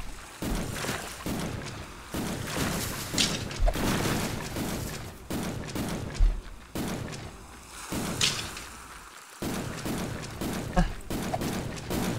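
Repeated booming, explosive video-game gunfire and cannon blasts in a dense, loud, continuous barrage with short gaps between bursts.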